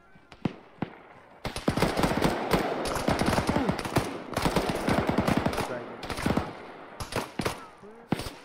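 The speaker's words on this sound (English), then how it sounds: "Sustained and heavy fire from our north and east." Sustained heavy gunfire rattles through a military video game's combat patrol, with dense overlapping bursts running almost continuously after a few sharp opening shots, loud and close.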